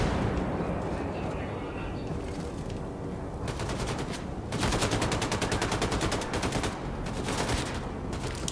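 Gunfire in the shooter Wolfenstein II: The New Colossus, a long stretch of loud, rapid automatic bursts layered with heavier booming shots, dense and continuous throughout and intensifying midway.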